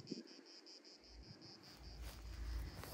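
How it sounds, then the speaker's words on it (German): Cicadas chirp in rhythmic pulsing bursts on rural land at Pećurice near Dobra Voda, faint and steady in the background along with light wind noise. "Ihr hört die Zirpen."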